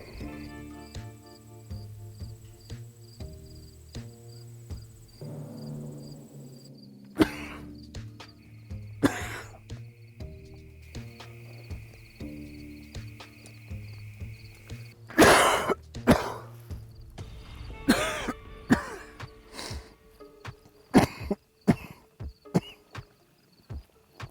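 Several sharp, separate coughs and throat-clearing bursts from a man with a dry, tickling throat while out hunting, close and fairly loud, spread out over a quiet background with faint tones.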